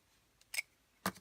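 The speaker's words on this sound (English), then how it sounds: "And trim off my edges." Scissors snip twice while trimming the edges of a thin cut favor box, two crisp, close cuts about half a second apart in a quiet room.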